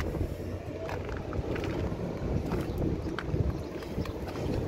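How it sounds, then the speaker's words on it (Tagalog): Strong wind on the roof of a mosque, a steady rumbling rush of air buffeting the microphone with small gusts and no pauses. "Malakas ang hangin, mainit."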